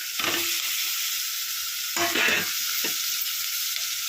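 Semiya upma sizzles in a pan with potato and curry leaves, a steady bright frying hiss broken by a few louder stirring scrapes and clatters close by.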